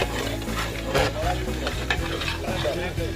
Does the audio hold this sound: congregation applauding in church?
no